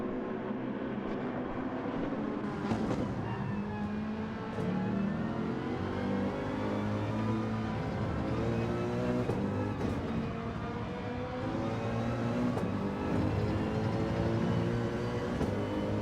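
Mercedes-AMG GR3 race car engine in Gran Turismo 7 at Spa, a continuous loud revving drone that rises and falls with gear shifts and throttle changes, with no talking.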